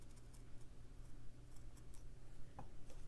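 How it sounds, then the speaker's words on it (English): Scissors trimming a paper snowflake cut-out for a Christmas stitching project, a few quiet, crisp snips scattered at an irregular pace over a low background hum. "If anything looks particularly wonky, I'll try and trim that up."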